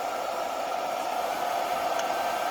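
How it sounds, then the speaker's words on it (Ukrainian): Constant whirring of a battery charger's cooling fan, a steady airy hum with no pauses, close by and moderately loud. "чути, вентилятор ще швидше стає дути"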